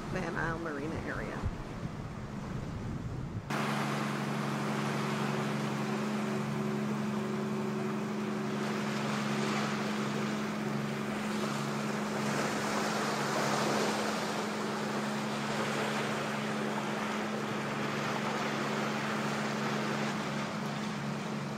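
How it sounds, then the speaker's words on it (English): Wind and lumpy, choppy water around a trawler under way near John's Passage by Van Isle Marina, heard as a steady broadband rush over a low engine drone after a brief louder opening burst, constant and close. "It's been breezy today and the water's pretty lumpy."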